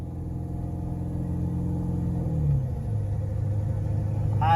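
A bone-stock Ford 7.3 Power Stroke diesel truck accelerates while towing a trailer, a steady low rumble from up close that holds its pitch, then drops slightly as it shifts gear and pulls on.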